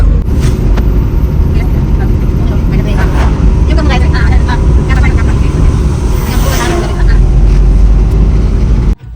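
A car driving along a main road toward Nipani, a loud, steady engine and road roar filling the cabin throughout, with a person talking over it.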